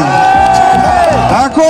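Spectators cheer loudly and close by at the finish of a 1 km final at the 2019 Ice Swimming World Championship in Murmansk, with voices shouting and whooping across the whole moment.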